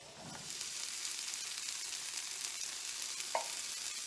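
Canned chickpeas are stirred into a sizzling curry of sugar and ketchup in a pan, a faint, steady hiss with a couple of soft spoon scrapes, and no talking.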